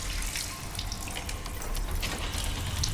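Sink water runs in a steady, soft splashing stream in the video game STASIS, with light dripping and gurgling and no talking over it.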